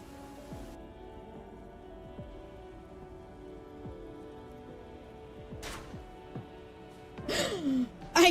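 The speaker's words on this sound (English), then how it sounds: "It's raining." Rain falls in the video game Disco Elysium as a steady, soft, even hiss, with faint sustained tones underneath and brief vocal sounds near the end.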